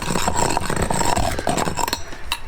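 Continuous rough scraping and rasping as a hammer knocks crust off a concrete paver, steady and close with a few sharper knocks.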